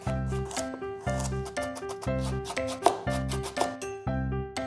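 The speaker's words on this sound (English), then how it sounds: "As for the zucchini and carrot, just go ahead and cut those into similar sizes" A knife chops zucchini and carrot repeatedly on a cutting board, crisp close taps in quick irregular bursts, with faint tonal hum beneath.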